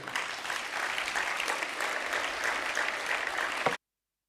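An audience claps warmly for two honored guests at an autonomy day ceremony in South Tyrol, a steady, full wash of applause from a sizable crowd that holds evenly for several seconds before cutting off abruptly.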